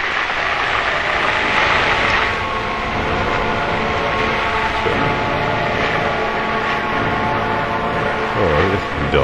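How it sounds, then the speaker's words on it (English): A subway train in the video game Silent Hill 3 roars past in a steady, dense wash of rumbling and rattling that fills the whole stretch, loud and close, with no talk. "I guess they're taking the same train as me."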